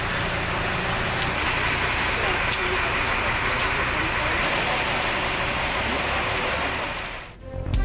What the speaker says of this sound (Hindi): हरिपुर में मूसलाधार बारिश